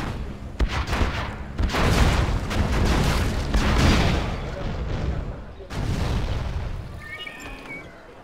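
Quad cannon units in Command and Conquer Generals fire rapid bursts of heavy gunfire mixed with booms and battle noise, with game voices speaking over the fighting.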